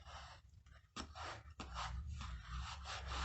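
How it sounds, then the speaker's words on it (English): Paper rubbed down by hand onto a handmade card, a close, quiet dry scuffing and brushing that rises and continues steadily after a brief pause. "rub down just to make sure that's adhered"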